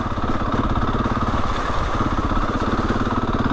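Husqvarna 701 motorcycle ridden off-road on a winter green lane, its engine droning steadily and close, with a constant pulsing rumble throughout and no talking.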